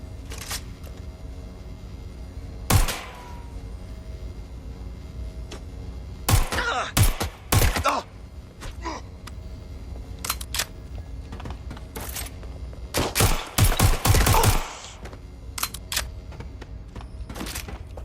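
Gunfire in Watch Dogs: Legion gameplay crackles in scattered sharp bursts and rapid clusters of shots over a steady background hum, with some volleys near and loud and others thinner.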